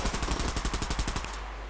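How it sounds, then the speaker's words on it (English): Rapid automatic gunfire from the free-to-play shooter Bullet Run, a fast, steady string of about a dozen evenly spaced shots that cut off abruptly, fairly quiet and with no talking. "this shooting in this game is some of the most satisfying I have ever seen in any game"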